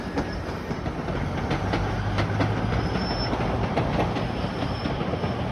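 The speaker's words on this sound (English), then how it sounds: "here comes the GO train" A GO commuter train rumbles past steadily with a dense roar and rhythmic clicking of wheels over rail joints, loud and continuous throughout.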